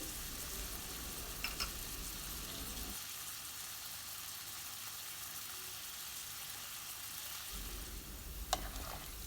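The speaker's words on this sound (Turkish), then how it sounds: "Patatesle havucu da güzelce kavuracağım" Steady sizzling hiss of diced potatoes and carrots sautéing in a pan, with a quieter stretch in the middle and a couple of faint stirring clicks.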